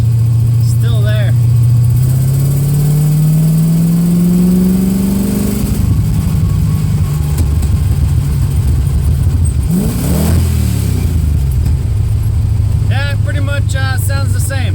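A muscle car's V8 rumbles through a 3-inch exhaust with aftermarket Thrush or turbo mufflers, idling with deep bass, revving up and dropping back, as someone talks nearby.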